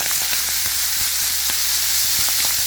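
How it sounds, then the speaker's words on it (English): Corn pork frying in a small amount of oil until crispy and brown for a Jamaican corn pork and ackee dish, a loud, steady close sizzle with scattered sharp pops and crackles throughout. "I'm gonna fry this up until it is crispy"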